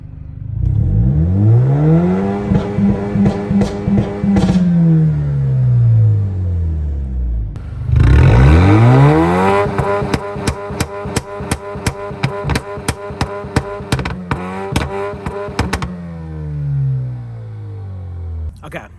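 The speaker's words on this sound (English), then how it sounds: "So now I'm gonna turn on the car, give it a few revs, that way you can hear what it may sound like in person." A tuned Alfa Romeo Giulia 2.0 engine revs loudly at close range. Two long rises and falls come first, followed by a burst of quick, choppy throttle blips and a settling idle.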